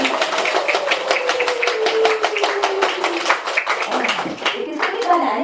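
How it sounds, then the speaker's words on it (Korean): A group of children at a worship session clap in a fast, even rhythm, the sharp claps continuing steadily under a sustained voice. "오른손과 왼손이 만나서 부딪혀야 우레와 같은 박수."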